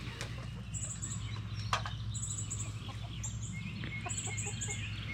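Homestead hens clucking near the coop, repeated soft clucks and short squawks at moderate distance, with a brief flap or scratch, over a steady low background hum.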